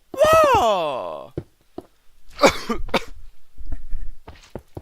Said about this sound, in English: Why did I just cough in both arms?